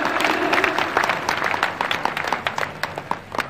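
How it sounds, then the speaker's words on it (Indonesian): Congregation applause at a church Christmas service, with sharp individual claps from a crowd that start fairly full and then thin into scattered, uneven hand claps. "Tepuk tangan untuk kemuliaan Tuhan, bukan untuk saya, bukan untuk gereja."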